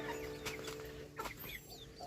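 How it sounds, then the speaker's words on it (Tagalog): Large chickens cluck in a yard, several soft nearby clucks and calls over a steady background hum, with no talking. "Yung manok niya, malalaki na po mga kabayan, no?"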